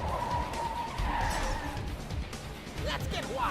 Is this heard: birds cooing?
no